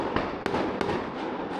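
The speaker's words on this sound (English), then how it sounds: "Port Douglas put on some fireworks." Fireworks bursting at night over Port Douglas, a few sharp distant bangs and crackles spaced irregularly over a dense rumbling background, heard alone without talk.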